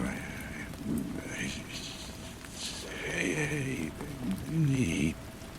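Steady rain falls with distant rumbles of thunder, a soft continuous hiss under a quiet voice speaking over it.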